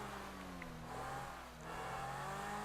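Engine of the Pegassi Vodka, a fast car in the video game Grand Theft Auto 5, droning steadily at a sustained revving pitch that dips briefly and then climbs again, fairly quiet and with no voices.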